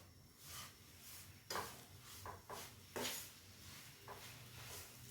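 Sugar being stirred into semolina kesari in a pan, a quiet scraping of a spoon against the pan with a few soft knocks and a faint sizzle, no talk.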